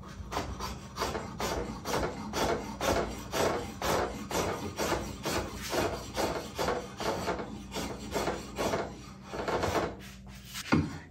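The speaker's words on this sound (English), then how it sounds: "I'm just going to show you how it carves straight from the factory." A factory-fresh, somewhat dull drawknife pulls repeated rasping strokes through wood for bow making. Roughly a dozen close, rhythmic scraping pulls are heard, each a short shaving rasp, with no talk.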